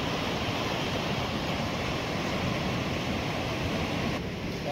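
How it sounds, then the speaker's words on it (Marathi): Sea waves at Harihareshwar beach roar in a dense, continuous wash of surf, loud and close, with wind buffeting the microphone and no distinct individual breaks. "लाटा बघा किती उंच."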